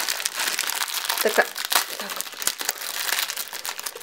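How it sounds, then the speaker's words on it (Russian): Crinkly plastic packaging of large XL cleaning sponges rustles and crackles continuously at close range while someone talks over it. "простите, немножко пошелещу."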